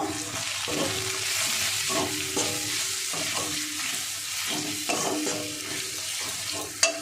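Masala frying in a pan while hot chili powder is stirred in, giving a continuous close sizzle broken by repeated scraping and stirring strokes, with a sharper knock near the end.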